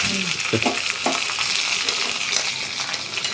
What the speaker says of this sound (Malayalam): ഇതിലേക്ക് ഇനി ഉള്ളി കാച്ചി പോരാണ്ട്.